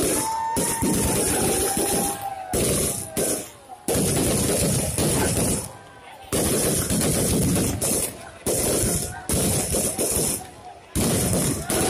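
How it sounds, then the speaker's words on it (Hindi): Fireworks go off at a Ravan Dahan festival in Farrukhabad, India, in 2017. Loud, dense volleys of rapid bangs and crackles come in repeated bursts with short gaps, and crowd noise sits under them. "आप देख सकते हैं कितनी खूबसूरत तरीके से यहाँ पर आतिशबाजी भी होती है"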